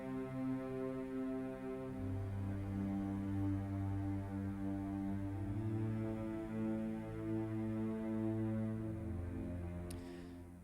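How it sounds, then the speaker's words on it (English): Low, sustained bass strings hold root notes an octave down in a simple string-section part beneath an emotional piano ballad, a steady droning hum that swells slightly and continues without voices. "just bass strings playing the root notes."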